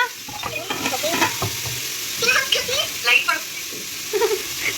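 Food fries in a pan in a home kitchen while spices such as cumin and coriander seeds are prepared. A crackling sizzle with stirring clatter sits under people chatting nearby.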